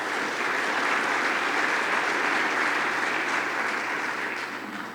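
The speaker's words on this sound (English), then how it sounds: "Let's give him a big round of applause." Audience applause fills the room at a lake association's annual meeting, a dense, steady wash of many hands clapping together for about five seconds before tapering off at the end.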